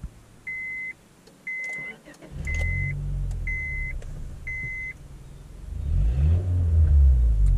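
Five short electronic beeps sound before a Honda car engine starts and revs, rumbling louder with deep throaty surges toward the end.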